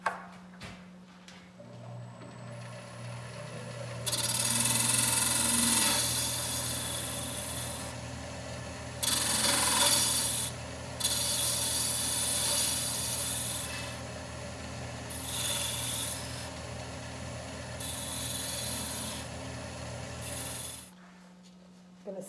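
A tool rounds off the ring on a wooden captive-ring goblet spinning on a lathe, a steady motor hum under repeated bursts of scraping and rasping cut, each lasting a few seconds, close and with no talk.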